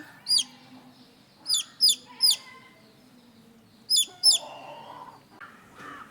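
Several sharp, high chick peeps ring out in small bursts, with soft clucking and rustling in the background.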